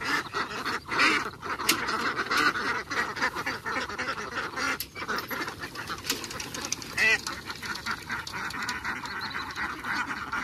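A large flock of domestic ducks being herded in a rice field, a dense, continuous chorus of overlapping quacks close by, with no talk.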